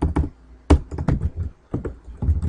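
Quick bursts of keystrokes on a computer keyboard while entering C# code, crisp irregular clicks and thumps in short clusters with brief pauses, close and fairly loud.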